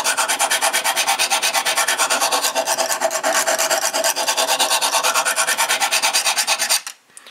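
A Lansky knife-sharpening system's stone rubs steadily along a knife blade in quick, even back-and-forth strokes, loud and close with a raspy texture, stopping just before the end.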